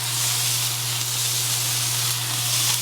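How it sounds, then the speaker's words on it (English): Wagyu smash burgers sizzling on a hot flat-top grill, a loud, steady, close hiss with a low hum underneath, no talking and no distinct scraping strokes standing out. "I'm actually gonna use my grill scraper that I use for cleaning to scrape these up"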